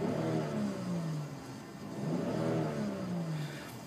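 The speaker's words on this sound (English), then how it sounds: "So I'll just rev the engine a little bit." A 2013 BMW X5 xDrive 35i with a 3-liter twin-scroll turbocharged inline-six revving in two rising and falling swells, close and moderately loud.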